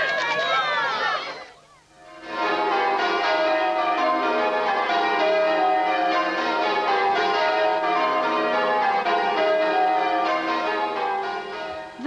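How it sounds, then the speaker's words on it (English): Church bells pealing as the Hagborns bell ringers rehearse for Golden Jubilee services, a loud, continuous cascade of overlapping rung tones that carries on after a brief lull near the start. "The Hagborns bell ringers rehearse for the services this weekend to mark the Golden Jubilee."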